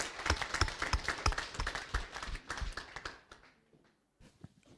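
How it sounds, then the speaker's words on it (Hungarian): Audience applause at a workplace recognition event, a burst of dense clapping that fades out after about three seconds, leaving near silence. "Tapsoljuk meg!"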